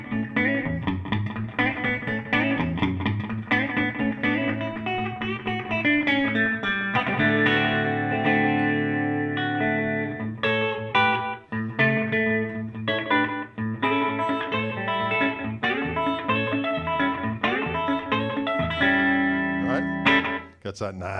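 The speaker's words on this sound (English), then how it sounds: "my first preset is just a nice little slapback" Electric guitar played with a slapback delay of a single repeat, a short, quick echo repeating each note, twangy and distorted, continuous phrases with brief pauses.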